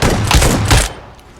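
A shotgun in a video game fires several rapid, heavy blasts in quick succession, loud and close, cutting off after about a second into a faint tail.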